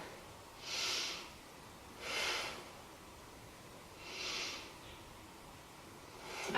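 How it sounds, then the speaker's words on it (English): Three slow, deep breaths drawn down into the belly while holding a standing yoga pose, each a soft breathy swell of air, evenly spaced and close, with quiet between them. "Take 3 breaths down to the belly."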